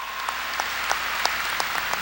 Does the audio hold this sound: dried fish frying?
no